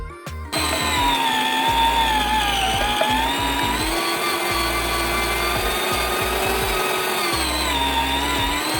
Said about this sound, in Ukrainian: Сало ми будемо молоти на м'ясорубці